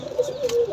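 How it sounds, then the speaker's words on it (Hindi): A pigeon gives a short, close coo, a low steady throaty tone lasting under a second, with no speech over it. "अच्छे कबूतर है, नए परों पे साफ सुथरे कबूतर हैं।"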